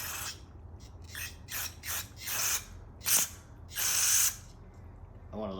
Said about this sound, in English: I'm gonna get another spray down that hole.